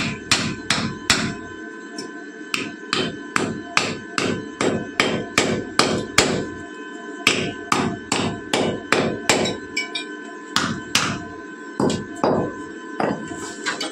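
Rapid ringing hammer blows on a cut metal part of a mini tractor before welding, bursts of quick strikes with short pauses, close and loud.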